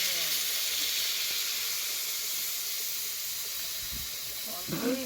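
Water poured into a pan of hot fried potato curry spiced with masala hisses and sizzles steadily, a loud continuous steam hiss that gradually eases, with a brief clink near the end.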